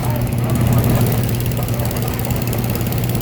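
A vintage unstyled John Deere tractor engine idles low and steady with a throbbing rumble, close by and continuous for the whole stretch.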